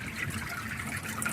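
Water trickles steadily through a homemade aquarium filter that draws water up and returns it to the tank, a continuous close-up burbling and dribbling with no voices.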